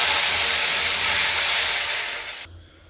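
Water poured into a burnt hot tempering in a pan for sweet vermicelli bursts into a loud, broad hissing sizzle that holds steady for over two seconds, then drops off sharply to a faint simmer.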